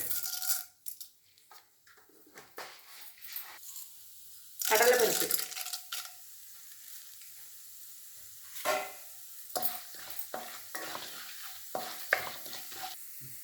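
Mustard seeds and urad dal fry in hot oil for semiya kichadi, with crackling sizzle, sharp pops and stirring scrapes coming in uneven bursts, loudest in the middle, separated by quieter pauses.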